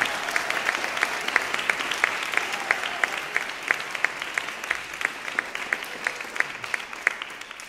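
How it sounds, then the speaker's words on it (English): A concert audience applauds steadily, with many hands clapping together at a moderate, even level for several seconds. "Let's give them a round of applause for their great leadership."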